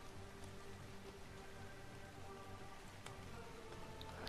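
Steady rain falling in the video game ARK Ragnarok, a dense continuous patter across the whole stretch, with a brief sharper crack near the end, heard alone without voices.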